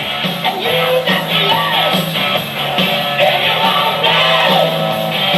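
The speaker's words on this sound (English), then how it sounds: "You gotta feed them with your applause and your screams and hollers." A loud, dense roller derby crowd roar, with shouts and whoops rising over steady noise the whole way through.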